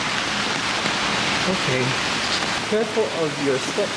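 Steady rain falling outdoors in Hiroshima, a continuous broadband hiss filling the background while a person talks over it.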